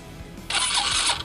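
A Suzuki Smash motorcycle's electric starter cranks a cold engine in the morning, giving a short, harsh, grinding rasp that lasts under a second.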